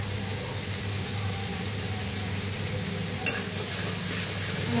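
Tomato and spice paste sautéing in a pan, a steady close sizzle with faint stirring scrapes and one brief sharper scrape near the end.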